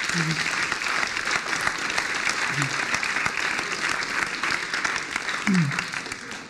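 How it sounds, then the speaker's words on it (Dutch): An audience in a lecture hall gives a loud, sustained round of applause after a presentation on smart computers, with a few low voices under the clapping. "Geef haar een applaus."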